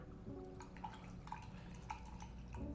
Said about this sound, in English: you can hear it sloshing around